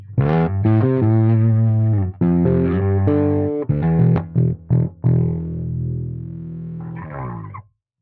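Bass guitar played through a distortion effect, with sustained gritty notes and short plucked phrases, close and clear, no voices over it.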